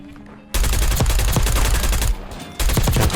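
AK74 automatic rifle fire in Black Ops 6: loud, dense rapid bursts that start abruptly after a quiet moment, pause briefly, then resume with full force, close and sustained.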